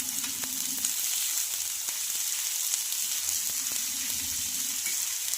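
Spinach frying in a pan for an egg and spinach bhurji, a steady close sizzle with occasional stirring taps, no voices.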